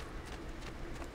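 A black horse in Assassin's Creed 2 gives a brief burst of hoof clip-clop over steady game ambience, a quick running rhythm heard fairly close for about a second.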